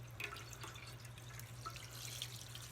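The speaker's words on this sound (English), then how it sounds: "It really is splashing back pretty far today." Cramp bark herbal tincture splashes and drips during straining, giving soft irregular drips and trickles over a low steady hum, with no voices.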